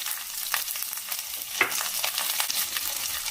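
Mustard seeds, chana dal, urad dal and chopped green chilies sizzle steadily in hot oil while a tempering for pumpkin palya cooks, with a continuous close hiss, scattered pops and one sharper crackle midway.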